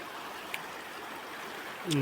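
Canal water rushes in a steady, even flow, a constant wash of sound, with a voice starting right at the end.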